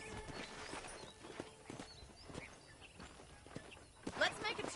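Hooves of a horse in Red Dead Redemption clip-clop at a steady walking pace on a ranch, moderately close and paired with light footstep sounds, while people talk over them.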